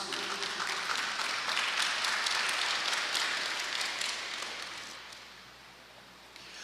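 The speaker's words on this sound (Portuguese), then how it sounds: "Uma salva de palmas à palavra de Deus." Church congregation applauding after a scripture reading at a healing retreat, a dense, steady wash of many hands clapping that swells early, then gradually thins and fades toward the end, with no talking over it.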